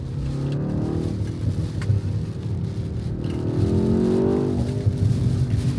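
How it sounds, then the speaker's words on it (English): A BMW or MINI car engine revs and rumbles close by, rising and falling in pitch, with occasional sharp pops and crackles from the exhaust. "Listen to the crackles and pop of this thing."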